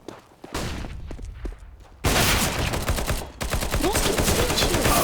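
Rapid bursts of gunfire crackle loudly in a Counter-Strike: Global Offensive competitive match, bursts of repeated shots and dense automatic fire filling the clip, growing heavier partway through.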